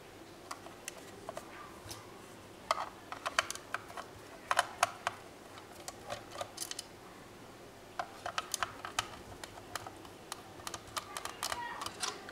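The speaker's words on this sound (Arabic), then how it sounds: "نفتح هذه الماوس" Sharp plastic clicks and snaps come from a desktop computer mouse with faulty buttons being pried open for repair, sounding in scattered close bursts and quick clusters over a quiet background.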